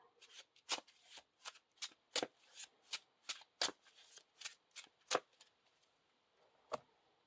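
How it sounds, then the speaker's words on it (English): Playing cards are shuffled in a quick series of crisp riffling bursts, about a dozen sharp flutters close by, then a pause and one last shuffle. "shuffle this Tree People back into our deck"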